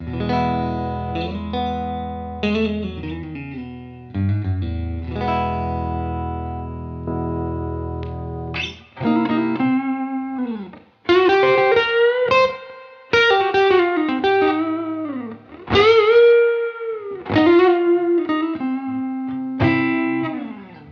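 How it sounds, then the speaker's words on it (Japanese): Line-recorded electric guitar phrases with sustained notes and bends ring out into a roomy, spacious room-ambience reverb tail, alone without talking. "もう少しルームアンビエンスを派手にかけたいと思います"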